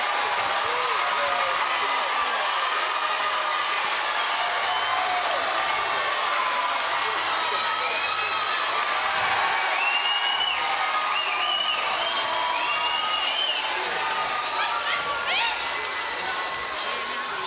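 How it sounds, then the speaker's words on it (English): A boxing arena crowd cheers and applauds after a knockout in a WBC women's super middleweight title fight, a dense, sustained roar heard under a commentator's voice. "And the crowd just loving it."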